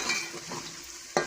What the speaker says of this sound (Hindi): अब हम दोनों चीज़ों को इकट्ठा भूनेंगे, इनको गोल्डन फ्राई करेंगे।